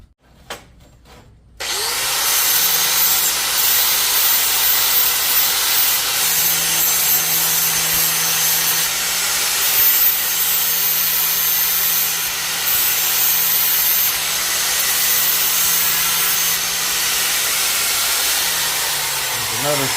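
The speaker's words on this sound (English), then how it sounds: "Notice I'm putting a little slight beveled edge on here just to try to give, well, a little bit better penetration on this thick tubing." Grinder putting a slight beveled edge on thick roll cage tubing for a Jeep Cherokee XJ, a loud continuous abrasive hiss after a brief quiet start, steady and close.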